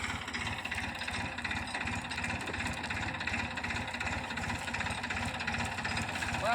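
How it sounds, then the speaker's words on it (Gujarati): A steady, throbbing tractor engine idles nearby with a low, even chug, running without pause. "ટ્રેક્ટર નો અવાજ આવે છે"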